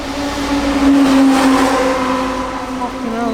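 A Volkswagen Golf Mk6 engine revs loudly and steadily with a rising and falling drone, close by, with voices talking over it.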